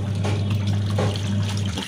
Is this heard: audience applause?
no